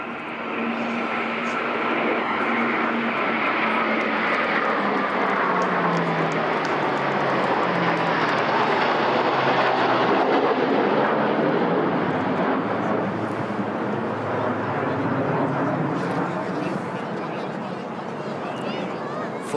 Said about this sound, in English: 3 aircraft next, a Poseidon P8, which is escorted here by 2 Typhoon.